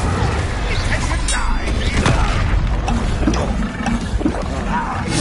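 Incendio fire spell cast in Hogwarts Legacy, a loud roaring whoosh with booming bursts amid dense combat noise, with voices speaking over it.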